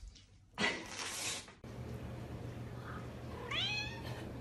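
A cat with wax paper stuck to its fur: a loud, crinkly papery burst about a second long, then a quieter stretch ending in a clear, rising meow near the end.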